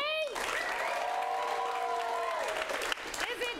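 Live audience clapping for a film director, a dense sustained round of applause with a speaking voice rising over the middle.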